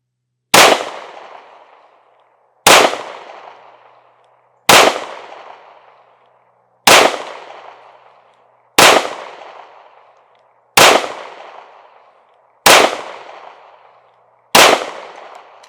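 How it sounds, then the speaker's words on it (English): Eight sharp gunshots from a Springfield Hellcat Pro Comp pistol fired at a target, evenly spaced about two seconds apart, each a loud crack with a short decaying ring, no talking. "just going to find the dot and pull the trigger"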